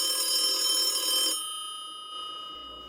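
A telephone rings in a luxury seven-star hotel room, giving a steady electronic ring for about a second before it stops, leaving faint room hum with no voices.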